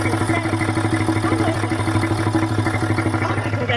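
A Land Rover Discovery TDV6 diesel engine idles close by with a fast, even rhythmic clatter and a steady low drone, running on its own without any talking.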